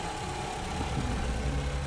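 A car engine with a known need for costly engine work runs continuously for a moment, a steady, slightly uneven mid-low hum with no voices over it.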